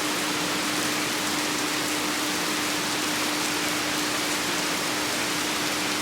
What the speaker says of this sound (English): Of course, the second we walk outside, it starts downpouring